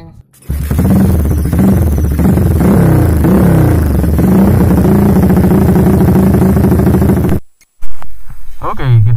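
A Bajaj Pulsar 180 custom cafe racer motorcycle revs loudly up close through its exhaust, a deep throbbing engine note that rises and falls steadily, then cuts out briefly and fires back up.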